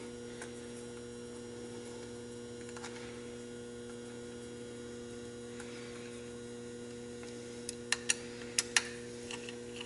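A steady low electric hum comes from an AquaHot fuel pump running after starting. It stays constant and quiet throughout, with a few sharp ticks and clicks near the end.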